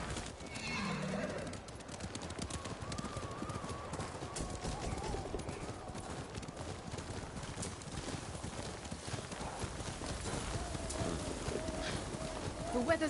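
Horse hooves clip-clop steadily on a snowy ride in Ghost of Tsushima, joined by a whinny at the start, with characters talking over the even hoofbeats and wind.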